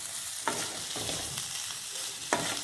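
Potato curry ingredients stirred and fried in a pan: a constant hissing sizzle, punctuated by a few sharp scraping strokes of the spoon against the pan, close and clear, no voices.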